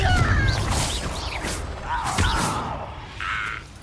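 Spell impacts in the Hogwarts Legacy video game, from a Confringo blasting curse: heavy thuds and crashes with whooshing swishes, loud at first and fading, followed by a short bright tone.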